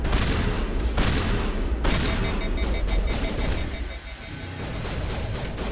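Rapid gunfire in a Mass Effect firefight, loud continuous volleys with sharp individual shots standing out, steady and close throughout, briefly easing near the end.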